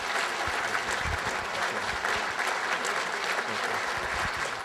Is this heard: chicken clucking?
no